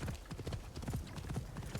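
Rhythmic hoofbeats of a horse galloping in Assassin's Creed Shadows, clip-clopping steadily and close at a quick pace, with no talking.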